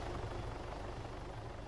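Helicopter in the video game Arma 3 flying behind the player, a steady loud rotor and engine drone filling the whole stretch with no talk.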